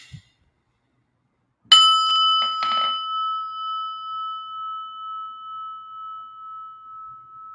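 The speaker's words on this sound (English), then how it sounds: "listen to the prayer bell here" A single prayer bell is struck once before meditation, a clear metallic ding with brief rattling overtones that rings out alone and decays slowly with a gentle wavering shimmer over several seconds.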